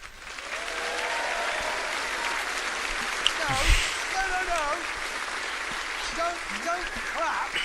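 Steady applause from an audience fills the whole stretch, dense clapping with voices cheering and talking over it.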